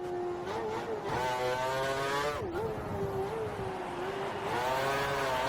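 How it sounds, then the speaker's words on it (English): A Formula 1 race car engine at full revs in a video game, a loud, steady, high-pitched whine that drops briefly and climbs again as it changes gear, heard close and alone. "We think the car behind is running on full revs."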